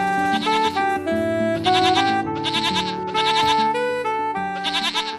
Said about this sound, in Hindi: अरे ये देखो, बकरियों की आवाज आ रही है